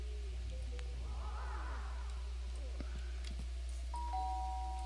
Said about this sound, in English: Please stop ringing the doorbell,